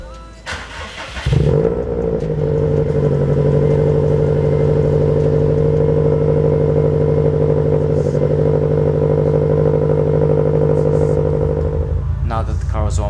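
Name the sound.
Subaru WRX/STI engine cold start with blow-off valve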